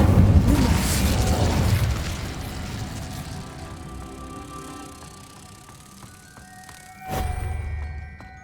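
An Incendio fire spell cast in Hogwarts Legacy bursts out as a loud whooshing blast that decays slowly into a fading rumble, then a second sharp impact flares up near the end.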